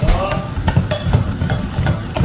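A milk cake mixture of milk and sugar is stirred in a pan, with repeated sharp spoon scrapes and taps against the metal over a low bubbling sizzle, close and loud.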